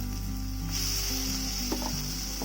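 A ground masala paste sizzles steadily in a pan while roadside-style kurma cooks, a continuous close hiss with occasional louder spatters and no talking.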